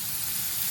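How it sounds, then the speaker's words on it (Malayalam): Onion and prawns sizzle in hot coconut oil, a steady close hiss of frying with no one talking. "അപ്പൊ നമ്മളിതാ ചെമ്മീനിലേക്ക് സബോള ഇടാണ് കേട്ടോ"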